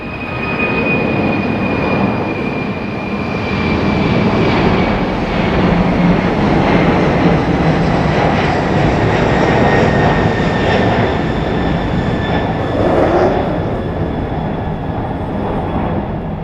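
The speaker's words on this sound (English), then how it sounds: "early rotation for the FedEx 767" A FedEx 767 jet takes off at Raleigh-Durham International with a loud, sustained engine roar and a whining tone, holding steady for the whole span and only slowly shifting.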